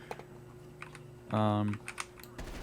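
Typing on a computer keyboard that makes an unusual sound: a brief, loud, buzzy burst of keystrokes in the middle, with a few scattered quieter clicks before and after.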